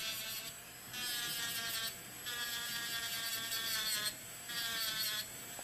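Electric nail file buffing encapsulated pigment off a nail, a high whirring buzz that switches on and off in bursts of a second or more, with a faint vibrating rattle and no talk.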